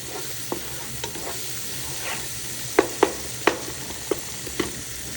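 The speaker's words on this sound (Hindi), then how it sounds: "सबसे पहले जो है मैं प्याज को अच्छे से भून लूँगी" Onions frying in a pan for a chicken chole curry, with a steady low sizzle and a handful of sharp scraping clicks from stirring, several bunched in the second half.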